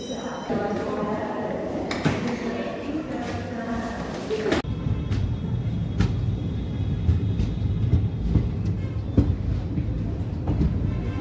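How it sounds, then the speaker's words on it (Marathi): A passenger train pulls into Latur railway station with a loud rolling rumble and clatter of wheels and cars passing close by, under intermittent talk. "लातूर स्टेशनवरती आपल्या गाडीची धमाकेदार अशी एंट्री झालेली आहे"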